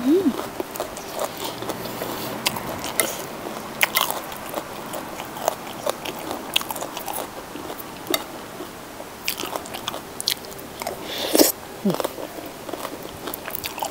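Crispy batter-fried black mushrooms are chewed close up, with dense, irregular crunching bites and crackles running throughout.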